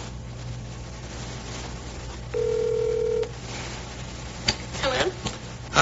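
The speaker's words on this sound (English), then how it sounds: "Phone number we're calling him at." An outgoing telephone call sounds a single steady ring tone of about one second over a constant line hum, followed by faint clicks and a brief burst of voice at the end.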